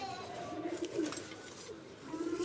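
Soft low cooing of high-flying golden pigeons, a few murmuring calls close by over faint background noise.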